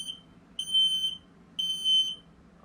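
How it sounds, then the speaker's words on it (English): A smoke detector in a Forest River Wolfpack travel trailer shrieks two loud, piercing beeps as its test button is pressed, each about half a second long and evenly spaced over a quiet background. "if you hear that sound, just open up your doors, turn your gas off"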